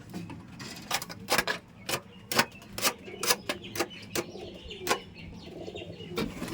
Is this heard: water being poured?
no